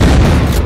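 Explosion blowing apart a house in the video game Unturned, a single loud, heavy boom with deep rumbling weight, filling the brief moment close and full.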